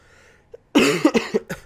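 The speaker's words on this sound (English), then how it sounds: "Oh my god, coughs." A person coughs a few times during a Space Engineers gaming session: a faint throat sound first, then a loud burst of three or four close-miked coughs in quick succession.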